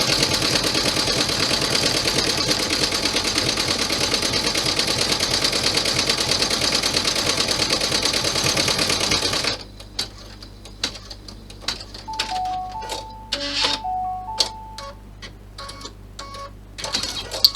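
An embroidery sewing machine stitches a design with a loud, steady, rapid mechanical chatter that stops abruptly partway through, followed by quieter clicks, beeps and machine tones as it resets.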